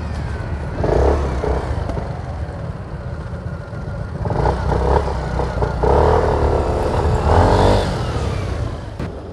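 A Piaggio Medley 150 S scooter engine runs, rising and falling through several throttle blips, close and fairly loud with some clattering, and no one speaking.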